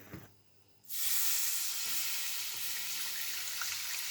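Water poured into a hot pan of kuymak after the cornmeal has been toasted, bursting into a loud, sustained sizzle and steamy hiss after a brief quiet moment, close and steady to the end.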